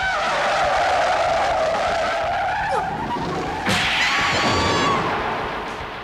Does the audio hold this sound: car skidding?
yes